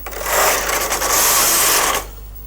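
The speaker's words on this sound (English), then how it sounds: "Knit a row to set our needles." The carriage of a Brother KH950i knitting machine is pushed across the needle bed to knit a row, making a loud, steady mechanical whirring and rattling for about a second and a half before it stops abruptly.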